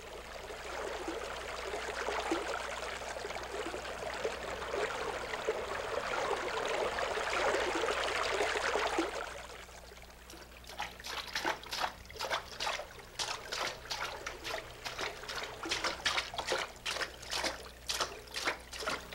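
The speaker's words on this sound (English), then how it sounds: "Hindus believe that washing in the 108 water spouts brings salvation after death" Running water pours from the 108 water spouts at the Muktinath shrine in Nepal, a steady splashing rush for about half the time, then breaking into a faster rhythm of separate gushes and spatters.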